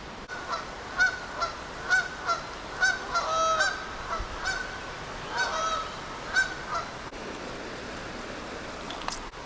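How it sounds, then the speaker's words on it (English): A flock of geese honks repeatedly at a distance in the early morning by a river, calls coming in irregular bursts over a soft outdoor hiss. "Woke up at about 5:30 to the sound of geese coming through"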